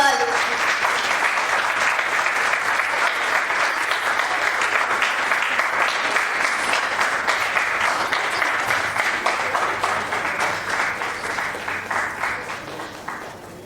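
Sustained audience applause at a corporate rewards and recognition ceremony, dense steady clapping from a room of people that holds for well over ten seconds before slowly tapering at the end.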